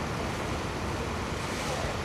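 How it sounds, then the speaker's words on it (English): Sewage splashes and churns in a pit at Heathrow airport, a dense, continuous wash of turbulent water noise with no pauses, fairly loud and close. "Oh, it's splashing."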